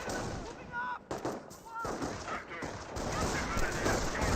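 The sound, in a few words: gunfire from Rifleman squads in video game Company of Heroes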